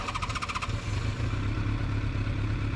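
A 1988 Yamaha FZR 1000 motorcycle idles steadily after a hot start, its engine running loud and close, with a brief clattering burst at the very beginning.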